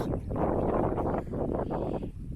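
Steady wind buffets the microphone in a low, continuous roar lasting the whole stretch, with no one speaking.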